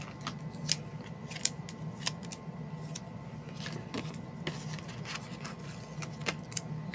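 Scissors snipping through a paper planner sticker, a series of crisp, close cuts at an irregular pace over a quiet room hum, with no voices.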